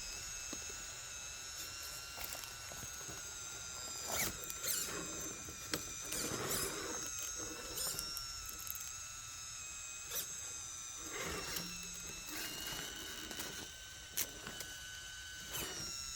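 Injora 35 kg servo winch whining as it reels in line and hauls a Vanquish VS410 Fordyce RC crawler up until its front lifts off the ground, a steady high mechanical whir with clicks and squeaks throughout.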